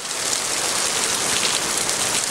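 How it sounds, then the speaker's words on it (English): A squall line with rain and hail pounds down at Stone Mountain, Georgia, in March 2010: a loud, dense, unbroken roar of heavy precipitation hitting surfaces, close and continuous with no voices. "We're getting whopped by a squall line right now"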